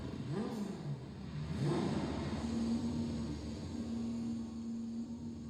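A Vulcan car engine starts up in the Roblox game Driving Empire, with a couple of rising cranking swells that settle into a steady, humming idle with no voices.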